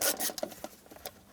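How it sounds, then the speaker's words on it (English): A Phillips screwdriver backs screws out of the console lid of a 1996–2002 Toyota 4Runner, giving short close scraping and rubbing scratches, quiet and intermittent. "Take out these two screws at the bottom."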